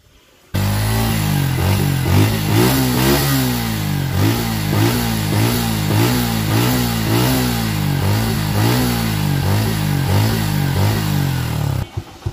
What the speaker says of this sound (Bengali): তো বন্ধুরা এখন আমি গাড়িটির সাউন্ড দেখাই।